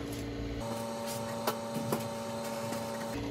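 Steady whirring fan noise from an HP Pavilion a747c desktop computer with a constant tonal hum, a few faint clicks and taps on top, moderately quiet and close.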